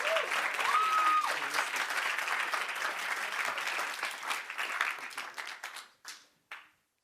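Sustained applause from a tech demo-day audience in London, steady dense clapping that thins out near the end into a few final scattered claps, with a brief cheer or whistle early on.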